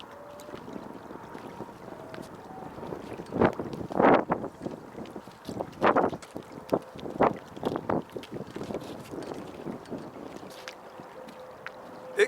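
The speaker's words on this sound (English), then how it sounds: "It can't just be cold, it's got to be cold and windy." Cold wind gusting outdoors by the water in winter, buffeting the microphone in uneven bursts over a low steady rush, with faint lapping and creaking from a small boat beneath.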